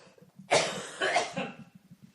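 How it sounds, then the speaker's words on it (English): Two loud, harsh coughs in quick succession, close by, with murmured voice sounds before and after. "having a cough really affects your timing"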